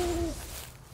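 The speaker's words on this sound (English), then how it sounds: "Owl's out." Owl hooting in the video game Palworld, a close, clear two-note hoot in the first third of a second, then fading into soft ambient game background.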